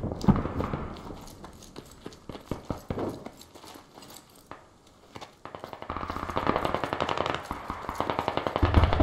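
Gunfire in the military shooter game Squad: bursts of rapid automatic shots crackle at mid distance, sparse and irregular at first, then a denser, louder run of repeated cracks building toward the end.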